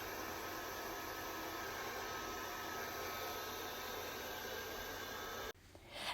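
A handheld hair dryer roars steadily at close range while blow-drying fine, layered bob-length hair with a round brush, a constant dense whoosh that cuts off abruptly near the end, followed by a brief softer rustle.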